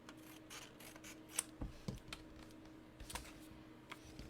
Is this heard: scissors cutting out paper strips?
yes